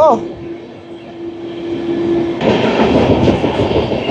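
Hirakhand Express train on the rails, a passing hum followed by louder rushing and rhythmic clatter, with a voice speaking over the noise.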